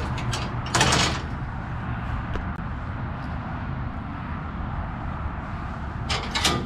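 The gate on a 2021 BBQ-style 7x16 food truck trailer opens with mechanical clanks and rattles, a louder burst near the start and another at the end, over a steady background hum.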